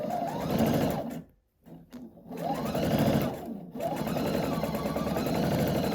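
A sewing machine runs in steady bursts as it stitches quilt block seams for a rainbow sampler, its fast mechanical whir pausing briefly twice before continuing, close and alone.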